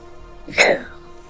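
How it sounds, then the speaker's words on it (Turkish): A single sharp human sneeze bursts out near the middle, loud and close, with faint background hum before and after. "Ben de bugün çok hapşırıyorum ya."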